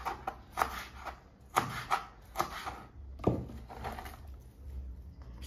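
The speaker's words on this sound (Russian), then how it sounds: "Нарезаем капусточку." A knife chops repeatedly through crisp young cabbage on a board, irregular crunchy cuts in quick bursts, close and fairly quiet.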